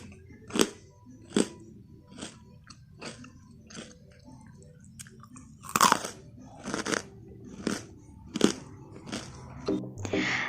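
Crunchy fried keciput, small sesame-coated dough balls, bitten and chewed up close: a string of sharp, crackly crunches at a steady rhythm, each bite loud and crisp with quieter chewing between.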